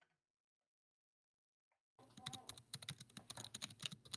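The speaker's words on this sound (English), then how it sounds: "Aggressive typing." Aggressive typing on a computer keyboard begins abruptly after near silence. It becomes a dense, rapid clatter of hard keystrokes, close and busy, and keeps going to the end.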